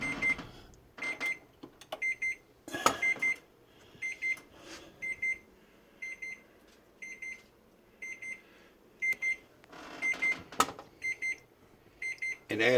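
Oven timer going off while apple bread bakes, a repeated electronic beeping in regular bursts of several beeps each, fairly clear over a quiet kitchen background with a few soft knocks.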